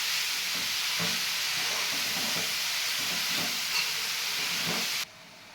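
A steady, broad hiss of steam rises from a pot of wild vegetables, with faint soft knocks underneath, then cuts off abruptly near the end.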